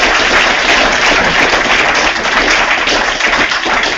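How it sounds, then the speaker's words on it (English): An audience bursts into loud, dense applause, many hands clapping continuously and close for several seconds, with no voices over it. "Round of applause."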